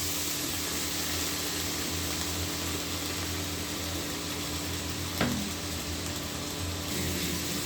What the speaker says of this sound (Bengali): বেগুন আর আলুটা আমি কিছুক্ষণ ভেজে নেব।